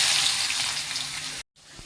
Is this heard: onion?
yes